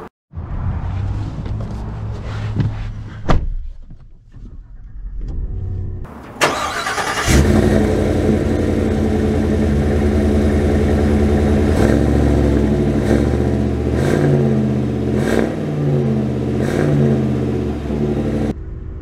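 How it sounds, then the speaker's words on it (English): An engine idles with a few clunks, then roars to life and revs hard, accelerating steadily with a loud, sustained drone and rising gear changes. "let's drive these trucks back to back and see which one performs the best"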